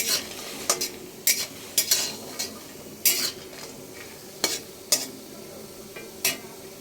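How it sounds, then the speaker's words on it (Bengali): Bori lentil dumplings frying in oil in a wok for Bengali shukto, a soft steady sizzle broken by sharp, repeated scrapes and clinks of a spatula against the pan, with no talking. "আমি আরেকটা কড়াইতে তেল দিয়ে বড়িগুলো ভেজে নেব"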